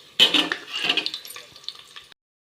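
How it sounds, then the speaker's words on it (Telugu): Green chillies hit very hot oil with a sudden loud hiss and crackling sizzle, followed by stirring and spluttering that gradually fades out over about two seconds. "ఆయిల్ చాలా వేడెక్కింది. పచ్చిమిర్చి వేసుకున్నాను."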